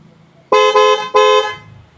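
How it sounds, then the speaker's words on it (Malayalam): A FIAMM car horn, newly fitted, sounds two loud, close, brassy honks in quick succession, the first with a slight dip midway, then the sound cuts off to near silence. "ഞാൻ ഏതായാലും ഒന്ന് ഹോൺ അടിക്കാൻ വേണ്ടി പോവാണ്"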